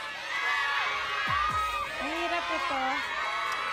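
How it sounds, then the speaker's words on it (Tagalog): Crowd of fans at a live morning entertainment show shouting and cheering, a dense continuous roar with whoops rising above it, while a voice talks over the noise. "Kanina pa kayo sumisigaw!"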